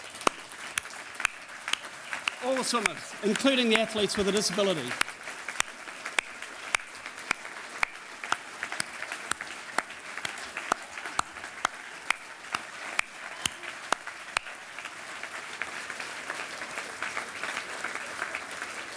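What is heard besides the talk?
audience applause for swimmers at awards night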